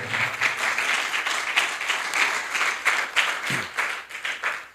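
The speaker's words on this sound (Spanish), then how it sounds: "Dale un fuerte aplauso a Dios si crees en esta verdad." Church congregation applauding during a sermon, a steady wash of many hands clapping together at moderate volume, sustained for several seconds with no talking over it.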